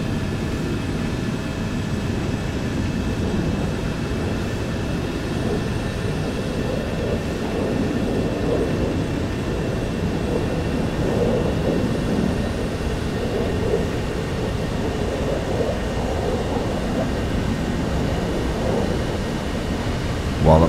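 A J35A Draken jet in a flight game rolls down the runway on takeoff, a steady loud engine roar with a broad rumble that holds evenly for the whole stretch, no talking.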